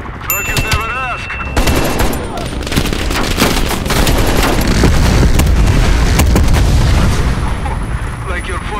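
Heavy helicopter-mounted gunfire in Call of Duty Black Ops Cold War, a dense sustained barrage of rapid shots and booming impacts that stays loud throughout, with a brief voice and radio beeps at the start.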